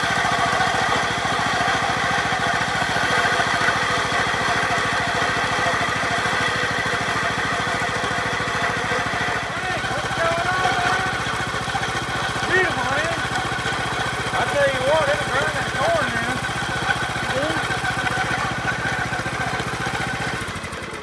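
A roto-tiller engine cranked up for grinding corn runs steadily at close range, a continuous motor drone and vibration for about twenty seconds while voices talk over it.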